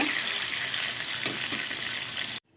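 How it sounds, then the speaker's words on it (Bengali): Soaked soya chunks frying in hot oil in a wok make a loud, dense, close sizzle with a brief stir in the middle, cutting off abruptly near the end. "সয়াবিনটা আগের থেকে একটু জল দিয়ে ভিজে রেখেছিলাম এখন লাল লাল করে ভেজে নিব"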